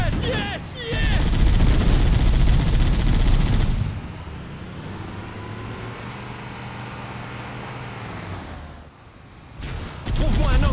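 Gunfire from the video game Halo CE: dense bursts of automatic fire and loud blasts come in heavy sustained stretches, separated by a quieter passage, with a character's voice briefly heard at the start.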